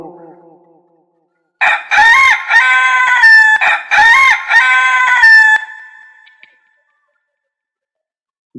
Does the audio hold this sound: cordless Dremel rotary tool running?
no